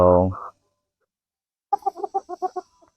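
A short rooster-like call, then after a pause a quick run of about eight clipped clucks from a chicken nearby.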